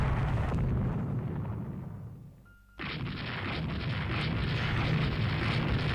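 Naval gunfire and shell explosions as an enemy capital ship sinks in the Rule the Waves 3 naval warfare game. A heavy, rumbling roar fades into a brief lull, then a loud, sustained blast of booming noise follows.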